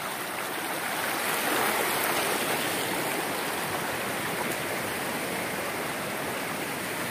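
A large rural stream with plenty of water rushes steadily nearby, a constant broadband gurgle and hiss with no voices.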